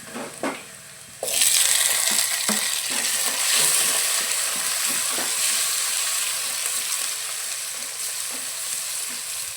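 Pan frying and stirring for a Kerala fish curry, tomatoes going in: a loud steady sizzle begins after a couple of clattering knocks, with repeated spoon scrapes ticking through the hiss.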